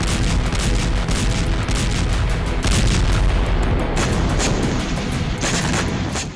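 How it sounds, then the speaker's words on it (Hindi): Explosion at an electric substation in Lviv, Ukraine, during a night attack: a loud, continuous roar of dense rumbling and crackling bursts that fills the whole stretch without pause, with no voices. "यह वीडियो लवीव के इलेक्ट्रिक सब स्टेशन का है, जहां बीती रात जबरदस्त विस्फोट देखा गया।"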